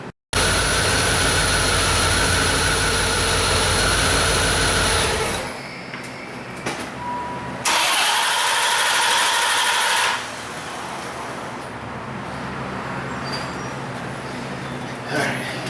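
A Chevy Corvette with a hot no-start fault cranks and catches, then settles into a loud, steady engine drone nearby, with shifts in level partway through.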